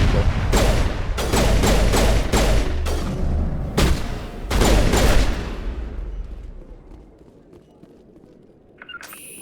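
Gunfire in the Mass Effect Legendary Edition video game: a run of loud, sharp shots at irregular intervals, some in quick bursts, fading into a low rumble and then near-quiet by the end.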